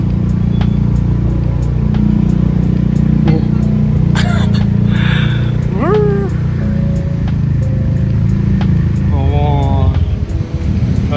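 Steady engine drone and road noise while riding a Gojek motorcycle taxi through dense, congested Bandung traffic, with a voice talking briefly and a couple of horn-like tones rising over the continuous rumble.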